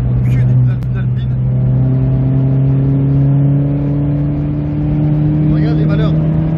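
Ford Fiesta ST with a Stage 3 E85 ethanol tune holding a loud, steady engine drone on a race-track warm-up lap, its pitch climbing slowly while the revs build, heard from inside the car.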